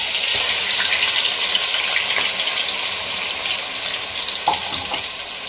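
Ground onion and green chili paste fries in hot oil for a Kerala-style chicken curry, a steady, close hiss of sizzling that fades slightly toward the end, with a brief clink of a utensil near the finish and no talking.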